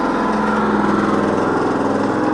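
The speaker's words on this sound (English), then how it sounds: "if you can hear me over that digger" A digger engine runs loud and steady at close range on a drainage site, a continuous rough mechanical drone with no break.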